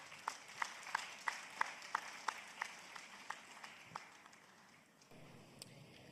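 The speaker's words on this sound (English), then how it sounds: "Please, a round of applause for him" An audience at a pitch competition claps for a presenter, with distinct claps ringing out in a loose rhythm that gradually thins and fades before a faint murmur.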